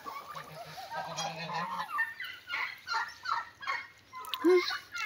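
Young turkeys calling with high peeping and gobbling notes, several birds close by, repeated calls over a soft farmyard background.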